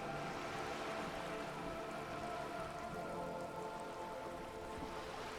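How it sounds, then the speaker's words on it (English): Steady rain pours onto wooden boards and surrounding water in a dim harbour scene from the game Disco Elysium, a dense, even hiss of drops with no pause throughout. "All around you, rain keeps falling down."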